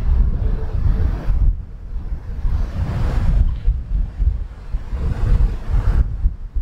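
Strong wind blowing on a golf course, a loud rumbling buffet across the microphone that rises and falls in gusts, close and continuous with no talking.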